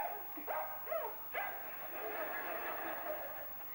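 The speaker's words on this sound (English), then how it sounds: "Frank is followed home by a dog." A stray dog gives three quick, yelping barks within the first second and a half, then only a low, steady background hum remains.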